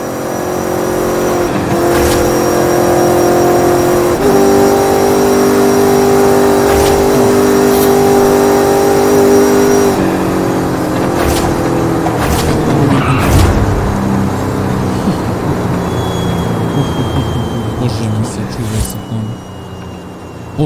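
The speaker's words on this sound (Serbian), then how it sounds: "Pogotovo to buđenje motora, taj zvuk njegov je specifičan." A Mercedes G-Class tuned past 1500 horsepower in Forza Horizon 5 revs hard with a loud, sustained engine drone that steps up in pitch, then breaks into rougher bursts as the revving continues, with speech throughout.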